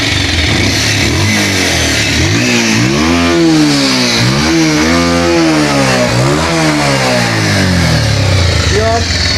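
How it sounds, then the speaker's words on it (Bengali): An old-model used motorcycle engine runs close by, idling loudly, then revving up and down several times in rising and falling sweeps before settling. "ইঞ্জিনের সাউন্ড একটু শোনা দিই"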